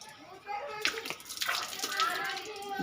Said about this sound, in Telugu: వాష్ చేసుకుంటూ ఫేస్ వాష్ చేసుకుంటుండు